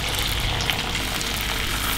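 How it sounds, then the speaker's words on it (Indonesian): Ground sambal poured into hot oil, producing a loud, steady wet sizzle and bubbling that runs throughout without any voices. "Setelah panas, tuang sambal ini."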